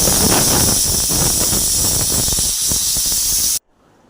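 A pressure cooker cooking green peas in lightly salted water lets off steam in a loud, steady hiss that holds for several seconds, then cuts off abruptly into silence.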